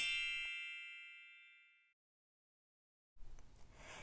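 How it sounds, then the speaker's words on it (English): A single bright bell ding rings out and slowly fades over a couple of seconds, followed by quiet and a faint rustle. "ringing that notification bell"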